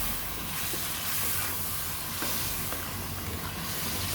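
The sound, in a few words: cubed potatoes frying in a pan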